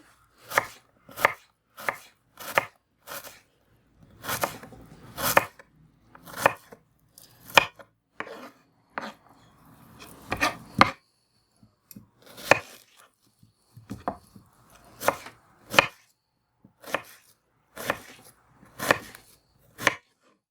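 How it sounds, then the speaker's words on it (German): A knife chops an onion into small cubes on a cutting board, crisp close knocks coming in quick, fairly regular runs with brief pauses, alone without talk. "den Zwiebel einfach kleine Würfel schneiden"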